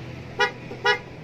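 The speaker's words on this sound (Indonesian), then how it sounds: "Kalau kamu nyalakan sirenanya, tinggal matikan." A siren fitted to a modified motor scooter gives two short, bright electronic chirps about half a second apart over a low steady background hum, then falls quiet.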